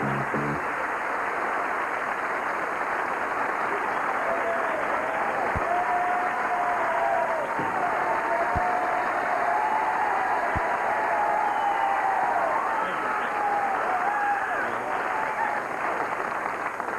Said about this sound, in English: Thank you very much for your applause.